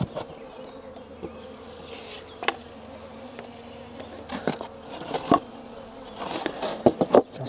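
Honeybees buzz in front of a small nucleus hive holding a light swarm, a continuous close hum with scattered clicks and knocks of hive handling.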